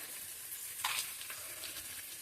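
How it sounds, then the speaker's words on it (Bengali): Potatoes sautéing with fish head in a pan give a steady, quiet sizzle, with a brief louder scrape of stirring partway through. "এবার এই আলুগুলো দিয়ে খুব ভালো করে কষিয়ে নেব।"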